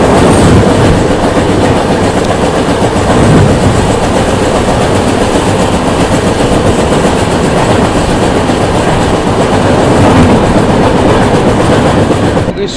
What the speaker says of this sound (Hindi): अभी बहुत ही कमाल का अपनी ट्रेन के साथ क्रॉसिंग होने वाला है। इंडिया की हाईएस्ट रेवेन्यू जनरेट करने वाली ट्रेन